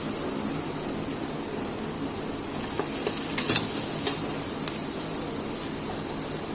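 Freshly squeezed garlic sizzles steadily in a pan for an aromatic Indian chicken curry, a constant frying hiss with a few brief stirring clicks midway.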